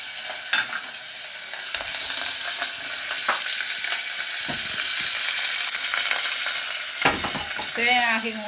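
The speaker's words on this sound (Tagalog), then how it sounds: "nagprito ako ng tuyo" Dried fish (tuyo) fries in a pan with a steady, loud sizzle and crackle that runs throughout, broken by a few clinks and stirring scrapes.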